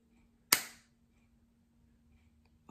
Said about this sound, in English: placing the earring in the barrel of that gun and also cock the lever of the gun